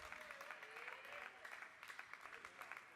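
Applause from a crowd at a table tennis match at an Oceania youth championship, steady patter of clapping throughout, moderately distant and mixed with low background murmur.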